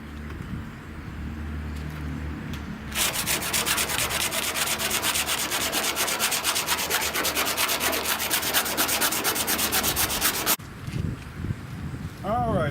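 Metal is sanded in a garage in a loud, steady rasping scrub for about eight seconds, with people talking before and after the sanding.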